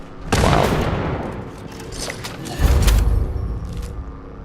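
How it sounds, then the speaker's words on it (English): A Tesla cannon firing in a video game, two heavy booming blasts with crackling bursts that trail off, loud and close, with no talk over them. "Tesla cannon."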